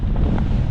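Strong wind buffets the microphone on a hilltop at Giddy Edge near Matlock Bath, a loud, steady rumbling roar filling the short moment with no talk.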